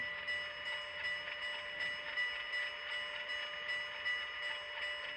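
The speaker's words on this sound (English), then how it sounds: "Let's put the bell on." A locomotive bell in a train simulator game clangs in a steady repeating rhythm, fairly quiet over a constant tonal hum, with no voices.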